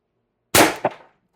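A single sharp shot from an Umarex TR50 air rifle running on HPA with a sniper barrel extension, a loud close crack with a short echoing tail, alone in quiet.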